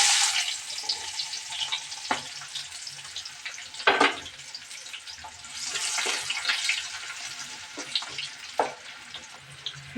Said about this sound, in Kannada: ಇವಾಗ ಉಳ್ಳಾಗಡ್ಡಿ ಹಾಕ್ತೀನಿ ರೀ.